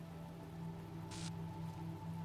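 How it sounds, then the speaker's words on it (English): Rain falls steadily in The Talos Principle, a soft continuous patter under a humming ambient drone, with a brief brighter hiss partway through. "now it's raining again"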